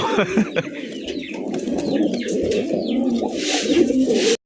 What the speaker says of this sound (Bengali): এটা কিন্তু অরিজিনাল বোট ঠোঁটের কাজল চোখের একজোড়া দামাসিন কবুতর